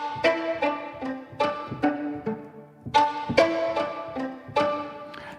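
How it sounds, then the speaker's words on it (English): The ricochets patch from the Fracture Sounds Trails Kontakt library, a rhythmic series of sharp plucked or struck tonal hits, each decaying quickly, with brief pauses between clusters. "Let's look at ricochets."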